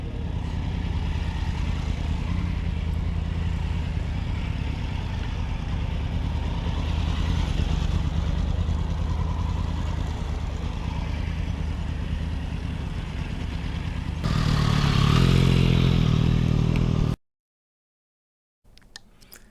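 Motorcycle engine droning steadily as a rider leans the bike through a turn at a riding training class, a continuous hum heard alone with no talk, swelling louder near the end before cutting off abruptly.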